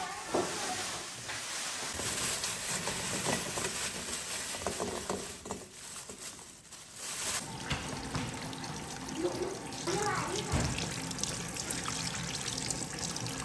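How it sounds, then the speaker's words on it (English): Rice is washed under running water at a rural Chinese home, with steady trickling and splashing from a tap, a short lull midway, then renewed pouring and swishing close by. "First, I washed the rice, getting ready to cook a pot of steamed rice."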